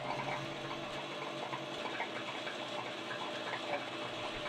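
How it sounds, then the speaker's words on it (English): A Broaster pressure fryer pump runs steadily, pushing water through the filter line to purge it, a faint, even rushing and gurgling flow with no pauses. "purge the filter line again by running the pump for 15 seconds"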